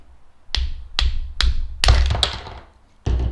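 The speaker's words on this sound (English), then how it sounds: "Sometimes it's easy to tap it." A part of a Bolens BL160 weed eater is tapped loose with sharp knocks, four evenly spaced taps followed by a quick cluster of hits and one final knock, close and crisp.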